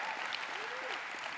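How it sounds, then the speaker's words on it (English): Brief audience applause at a tech conference keynote, a short burst of crowd clapping with a faint voice underneath. "Give Kelly a round of applause"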